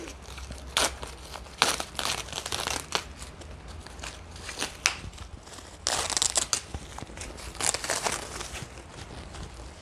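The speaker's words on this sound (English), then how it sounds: "Everything is wrapped so tightly. I think I can just rip" Tight plastic and paper wrapping is crinkled and ripped off the strap of a Coach crossbody clutch, giving close, busy bursts of crackling and tearing that come in uneven waves throughout.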